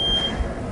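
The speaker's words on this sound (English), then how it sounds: "The timer's going off." Timer on a Blodgett Hydrovection oven beeps in a single high, steady electronic tone that cuts off partway through, heard over a low hum of room noise.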